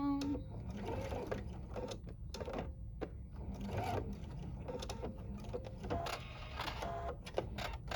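A sewing machine top stitches a reusable wine gift bag in short stop-start bursts of rapid mechanical chatter, pausing briefly between runs, close and fairly quiet.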